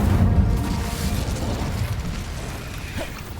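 Incendio fire spell cast in Hogwarts Legacy: a deep whooshing boom that bursts loudly at the start and rumbles on as it fades, with no talk.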